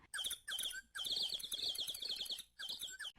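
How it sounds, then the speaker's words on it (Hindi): Several birds chirp and tweet in rapid, bright bursts, the calls overlapping in short clusters with brief pauses between them, close and fairly loud. "पक्षियों के बोलने की ध्वनियां"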